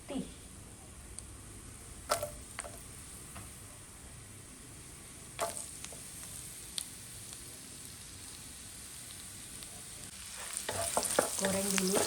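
Shallots and garlic frying in hot oil after ginger, a steady low sizzle with scattered sharp spatters and stirring scrapes, growing busier and louder toward the end, with no talking.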